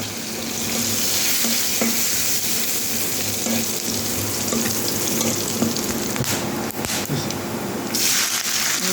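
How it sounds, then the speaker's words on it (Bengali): Cumin, fennel and whole coriander seeds fry in hot oil with onion, garlic and dried chillies for Bangladeshi tarka daal, giving a steady close sizzle and crackle with occasional stirring scrapes and no talk. "পেঁয়াজ রসুন শুকনো মরিচ অল্প ভাজা হয়ে আসছে। এখন আমি দিয়ে দেবো জিরা, মৌরি"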